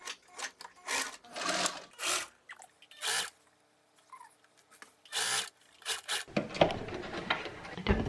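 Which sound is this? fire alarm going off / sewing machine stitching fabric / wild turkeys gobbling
sewing machine stitching fabric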